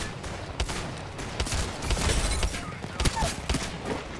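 Rapid gunfire in the Apex Legends video game, repeated sharp bursts and shots in quick succession throughout, with a player talking quietly underneath.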